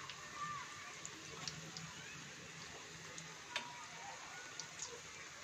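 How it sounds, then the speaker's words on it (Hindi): Spinach pakoras frying in hot oil, a soft, steady sizzle with scattered small pops and crackles, faint and close, with no talk. "जब पकौड़े एक तरफ से ब्राउन हो जाए तो हमें फ्लिप कर देना है और दूसरी तरफ भी गोल्डन ब्राउन होने तक फ्राई करना है।"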